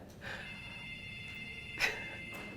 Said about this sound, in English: Sounds like an office phone.